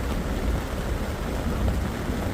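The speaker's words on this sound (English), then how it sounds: "The next minute it's pelting down." Heavy rain from a supercell thunderstorm pelts down on the road between Morisset and Kangaroo Valley, a dense, steady broadband roar without pause and with no voices.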